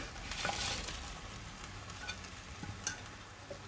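Prawns go into a hot pan of sweet and sour sauce, a steady close sizzle with light stirring scrapes and a few soft clicks over the frying hiss.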